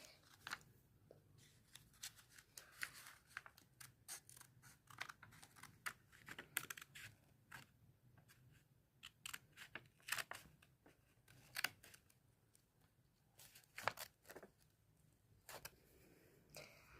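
Scissors snip through paper to cut out circles for a preschool snowman craft, a run of quick, crisp, irregular cuts close up with brief pauses between them and no voices.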